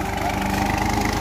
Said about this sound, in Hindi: अब ये ट्रैक्टर से कैसे निकालते हैं बुग्गी